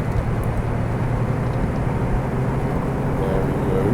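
Carenado PC-12 turboprop in the Prepar3D flight simulator, spooling toward takeoff power, giving a loud, steady engine drone with a constant low hum that sits under a voice.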